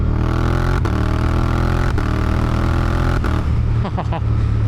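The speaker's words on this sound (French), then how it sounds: "J'adore le son du passage de shifter. Regardez, je vais en troisième." A Suzuki GSX-8R motorcycle accelerates hard with a loud, close engine note. Three quick quickshifter upshifts each cause a brief sharp break in the sound.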